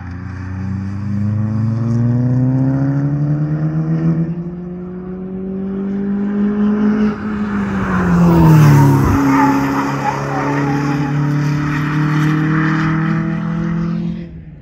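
An Audi S3 is driven hard at a Volkswagen car meet, tires squealing and skidding over a roaring, revving engine whose pitch rises and falls as it slides past, loud and nearby.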